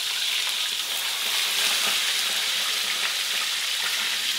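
Steady, dense sizzling of tuna frying in hot oil, continuous and fairly close, with no talking.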